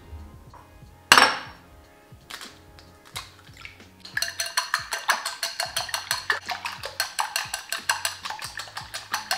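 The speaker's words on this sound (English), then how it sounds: "So now I am going to crack my egg and whisk them." Eggs for egg fried rice are cracked with one sharp, loud knock against a bowl, followed by a few softer taps. Then comes fast, steady, rhythmic clinking of whisking in the bowl, close up, with no talk.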